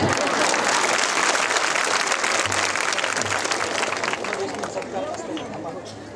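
Steady applause from a crowd fills the whole stretch, dense and loud, tapering slightly toward the end.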